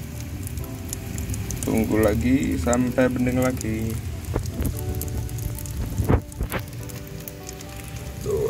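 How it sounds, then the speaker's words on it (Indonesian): Steady rain patters outdoors at close range, a continuous hiss running throughout while a person speaks over it. "Hujan."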